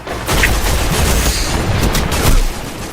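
Machine gun fire in the Destiny video game during an Iron Banner match, a dense continuous burst of loud rapid shots with booming impacts, close up and with no talk over it.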